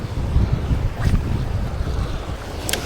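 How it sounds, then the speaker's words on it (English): Strong wind buffets the microphone on a boat out on the Swan River in Perth, a constant low roaring rumble with gusts, water and hull noise underneath, no talk. "It's windy as fuck"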